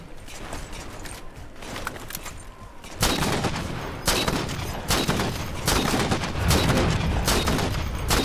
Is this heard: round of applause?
no